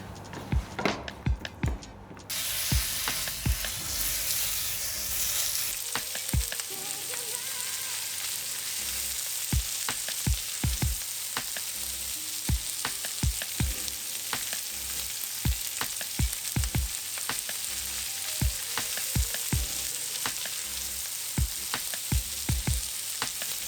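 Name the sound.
pan-frying brined edible plant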